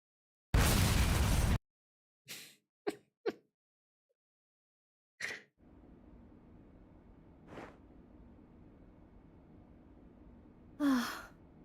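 Millennium Tower explosion in the PS2 game Yakuza 2: one loud, broad blast about a second long near the start, followed by a few short sharp bangs, then faint rumbling and a brief gasping voice.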